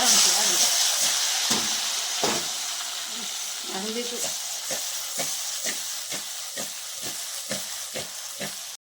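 Vegetable curry fries in a pan with a steady loud sizzle and hiss, and intermittent stirring clacks come through close up as someone talks over the cooking.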